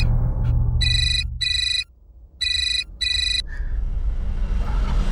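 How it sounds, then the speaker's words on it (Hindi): A telephone rings in four bright electronic bursts, paired in two sets with a brief pause between, followed by quieter room noise. "एक मिनट, एक फोन है"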